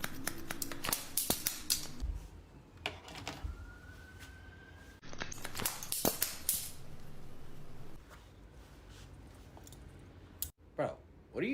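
Sharp, rapid snipping clicks from a barber's scissors come in irregular bursts through the clip, close and crisp, with a few louder snaps, while people talk over them.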